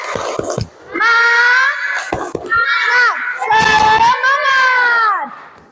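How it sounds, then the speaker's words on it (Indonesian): Classroom children chant a spirit clap in unison, voices loud and close with clap bursts between phrases, following a short count-in. "Ayo, 1, 2, 3, tepuk semangat"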